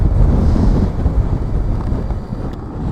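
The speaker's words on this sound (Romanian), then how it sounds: "Bate un pic vântul." Strong wind buffeting a microphone outdoors in Denmark, a continuous loud roaring rumble with no voices.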